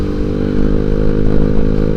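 A Kawasaki KZR motorcycle engine runs steadily on a hot highway ride, a loud, continuous close-up drone with dense harmonics and slight rises in revs, no talk over it.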